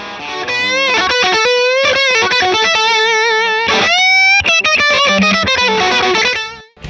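Distorted electric guitar strums chords through a VOX Bruno TB18C1 tube amp, ringing and drenched in spring reverb, playing continuously before fading out at the end.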